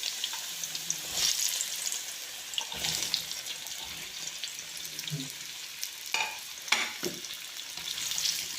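Green mango pieces sizzling in hot sesame oil, a steady close frying hiss broken by several louder bursts as the pieces are stirred and turned, with no speech.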